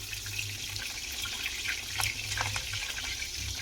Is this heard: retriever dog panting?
no